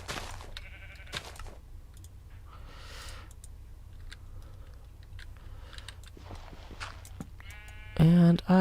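A Minecraft sheep bleats in short repeated calls over quiet game ambience and keyboard clicks, ending with a louder burst of activity.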